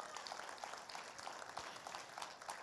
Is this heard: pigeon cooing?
no